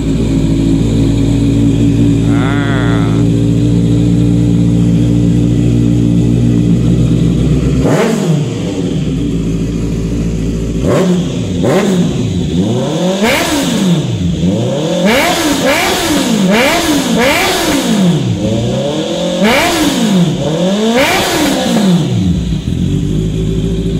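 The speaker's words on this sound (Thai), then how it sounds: "เดี๋ยวเรามาฟังเสียงเครื่องยนต์กันนะฮะว่าเสียงจะดูดันเล้าใจแค่ไหนนะฮะ" A 2018 Honda CB650F motorcycle engine idles steadily, then is blipped through a run of sharp, loud revs that rise and fall in quick succession, close by with no talking.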